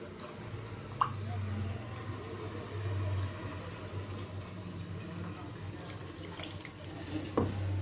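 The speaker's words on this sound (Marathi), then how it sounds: "मिक्सरच्या पॉटमध्ये पाणी टाकून घेऊ" Water runs into a mixer jar for making a fasting dosa batter, a close, steady splashing trickle with a couple of small knocks, and faint voices in the background.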